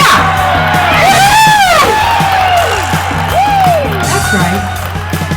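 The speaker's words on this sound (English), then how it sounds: "I want to cheer!" A crowd at a rally cheers, whoops and yells loudly, with excited shouts rising and falling over a sustained roar and some clapping.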